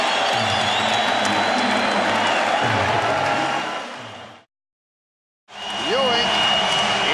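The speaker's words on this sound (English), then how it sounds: "The crowd reacts with the Knicks up by 3 and the Rockets calling for time." Arena crowd roaring at a Knicks versus Rockets NBA game late in the fourth quarter, a dense loud cheer that swells, cuts out briefly, then returns, with a voice talking over it.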